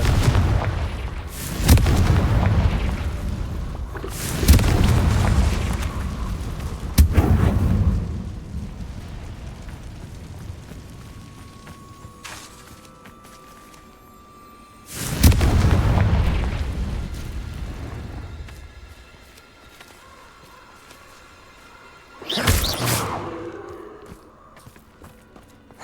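Explosive bursts from a Confringo fire spell in Hogwarts Legacy, four heavy booming blasts spaced several seconds apart, each with a rumbling low-end tail fading into quieter ambience.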